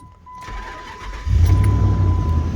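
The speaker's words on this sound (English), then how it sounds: "Car runs." Jeep Grand Cherokee engine with a faulty starter connection cranks briefly, then catches and settles into a loud, steady idle close by.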